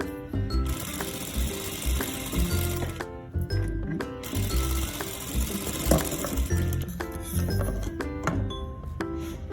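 A sewing machine stitches seams on a princess-style deep-neck blouse, running in bursts with brief pauses, its rapid needle clatter steady and close, with small clinks between runs.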